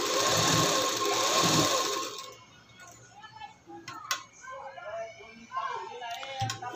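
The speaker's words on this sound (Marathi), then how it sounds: "या ठिकाणी एकदम कडेवरतीच टीप मारायची, कारण त्या ठिकाणी आपल्याला" A sewing machine stitches right along the edge of a blouse button strip, running in a loud, fast whirring burst for about two seconds before stopping, followed by quieter handling sounds and some talk.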